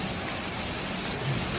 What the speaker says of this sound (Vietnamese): mưa đá nó rất to lắm, năm nay mưa to